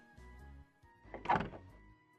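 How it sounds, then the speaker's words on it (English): A shop door opens in a quiet workshop: a soft clunk of the latch, then a louder swell of creaking, scraping movement as it swings, heard alone at close range over a faint steady hum. "you heard the door to your shop open"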